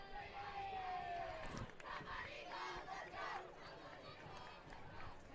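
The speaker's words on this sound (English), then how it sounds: "So the Taft crowd has come alive a little bit." A high school football crowd at a Taft Eagles home game roars and cheers steadily throughout, a loud, dense wash of many voices, with a brief whistle-like tone early on.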